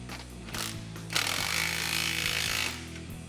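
A power tool, likely an impact driver, tightens exhaust clamps and bolts under a 2021-2022 Ford Bronco during an AWE cat-back exhaust install, a loud, close buzzing whir that runs for about two seconds, then stops.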